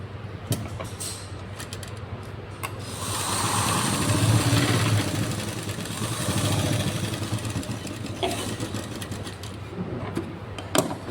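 A sewing machine stitching a shirt collar runs in a steady mechanical whir that swells louder in the middle, with scattered clicks and handling knocks before and after.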